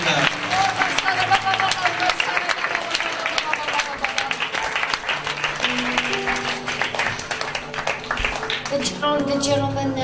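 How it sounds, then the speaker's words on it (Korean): A church congregation applauds steadily during a worship service, dense clapping carried on under a voice speaking over it and music tones. "박수를 하나님께 올려드리겠습니다."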